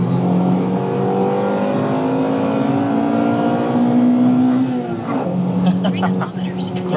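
Honda Integra Type R engine revving hard through its VTEC crossover, the pitch climbing steadily in a loud sweep before dropping and rising again, with voices talking over the engine.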